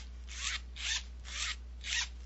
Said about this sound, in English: On the outside of the case, you have a zipper